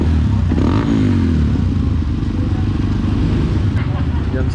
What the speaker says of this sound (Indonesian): Kita tes WR155 guys.